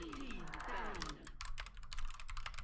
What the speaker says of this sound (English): My keyboard is very loud.